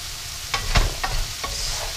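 Tofu and sweet peppers sizzle in a pan with soy sauce, stirred with several distinct scraping strokes over a continuous frying hiss, close and fairly loud.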